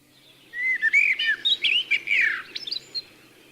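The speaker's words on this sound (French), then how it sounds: "Le chant des oiseaux" Birds singing on a children's story cassette, a lively run of bright chirps and whistled tweets lasting about two and a half seconds, clear and close against a quiet background.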